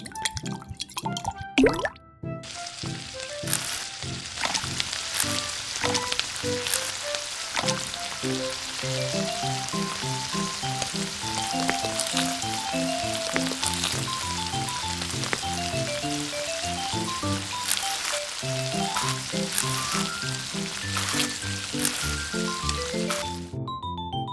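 Cooking oil sizzling while frying miniature food for a tiny Cheetos chicken cheese sandwich, a constant bright crackle and hiss lasting over twenty seconds, with soft background music underneath.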